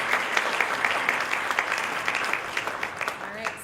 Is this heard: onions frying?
no